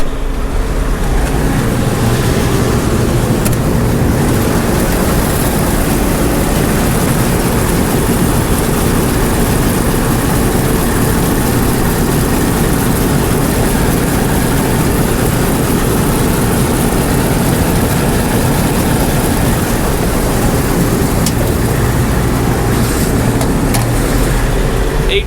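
A John Deere 8820 combine engine runs steadily at high RPM, a loud continuous low rumble with mechanical drone holding unchanged throughout, close by and without talk.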